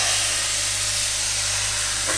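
Pancake batter frying in a hot, lightly greased pan, giving a steady close sizzling hiss with no pauses or talking throughout the short moment.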